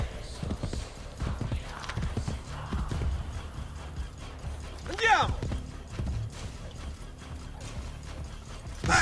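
Hooves clop rhythmically at a gallop amid Assassin's Creed Brotherhood game sounds, with a horse whinny partway through and voices talking over it.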